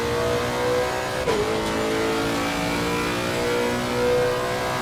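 Lexus GT race car at Monza in Assetto Corsa Competizione, engine held at high revs under full throttle with a steady strained whine, a quick gearshift blip near the middle, loud and alone.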